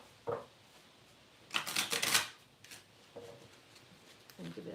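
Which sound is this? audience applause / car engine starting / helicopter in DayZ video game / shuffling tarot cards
shuffling tarot cards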